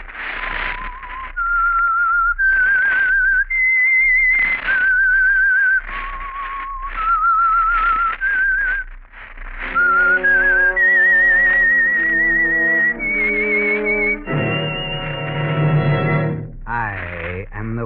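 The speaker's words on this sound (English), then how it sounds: "That whistle is your signal for the Signal Oil Program" Signature whistling melody of an old radio mystery show, a lone whistled tune with echo, rising and falling in long sustained notes, joined near the end by dramatic orchestral chords.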